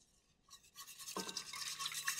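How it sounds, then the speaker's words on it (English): Close whisking of lemon curd mixture with melted butter in a pot, a soft scraping, swishing texture that starts after a brief quiet moment and continues steadily. "I'll grab a whisk here. Give everything a little stir."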